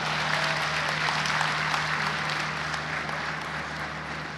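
A dense, steady wash of audience applause fills a power plant inauguration ceremony at Bhikki, Sheikhupura, many hands clapping at once, holding strong before easing slightly toward the end, with a low electrical hum underneath.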